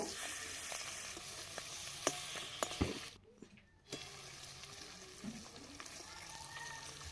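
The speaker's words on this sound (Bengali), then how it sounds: "উনুনের ওপরে একটা কড়াই বসিয়ে দিচ্ছি দিয়ে কড়াইয়ের মধ্যে এখন দেবো সর্ষের তেল দিয়ে মাছটা ভাজবো" Rui fish sizzling and frying in mustard oil in a kadai on a stove, a steady soft crackle with occasional sharper pops and a brief quiet gap midway.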